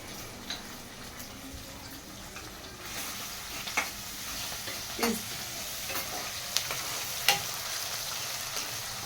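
Onion and green chillies sizzle in a pan of oil for a spinach curry, making a steady hiss. Now and then a spoon scrapes and taps against the pan as the mix is stirred, and a few sharp clinks stand out.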